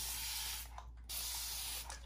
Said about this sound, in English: spraying liberally the whole thing with water